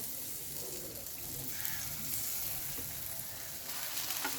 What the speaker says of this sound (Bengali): তো এই যে পকোড়া ভাজা চলছে